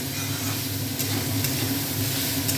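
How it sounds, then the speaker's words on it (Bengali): Cooked rice fried in a pan gives a steady, close sizzle with occasional stirring scrapes, continuous and moderately loud with no talk. "এখানে ভাতটা ভাজা হচ্ছে।"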